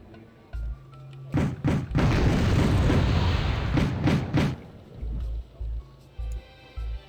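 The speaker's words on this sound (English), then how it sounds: "One of the Leopard 1A5s goes down there to Eric's missile from the Highlanders" In the real-time strategy game Wargame: Red Dragon, a missile strikes a Leopard 1A5 tank, producing a loud sustained rumbling blast between sharp thumps, followed by quieter engine-like pulses.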